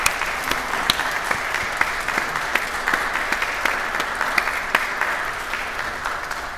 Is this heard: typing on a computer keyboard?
no